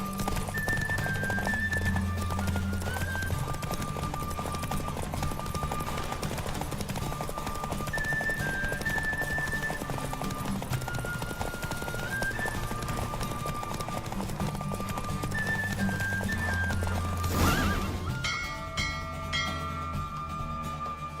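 A horse gallops in a race in The Witcher 3, its steady rhythmic hoofbeats running under a looping musical score for the whole stretch, with a brief whoosh near the end.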